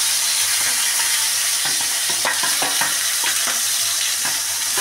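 Onion paste frying in hot oil for chicken bharta, a loud steady sizzle with scraping stirs and soft clicks of a spoon against the pan.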